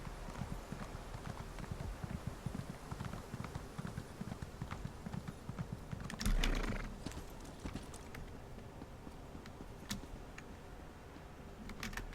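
Horse hooves clip-clopping steadily in the game Elder Scrolls Online, a continuous rhythmic trot at moderate distance, with a brief louder burst midway and game ambience around it.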